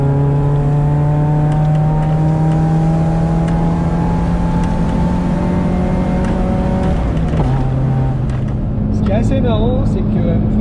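A Volkswagen Golf Cabriolet Karmann drives with the roof down, its engine a loud steady drone rising slowly in pitch with wind rush, while a person talks over it; the tone shifts as it changes speed near the end.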